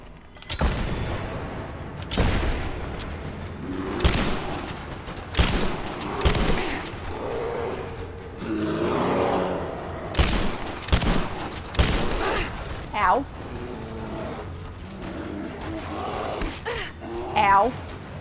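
Machine gun fire aimed at a bear in Rise of the Tomb Raider, with bursts of loud gunfire and booms spread across the scene, mixed with game effects and someone talking throughout.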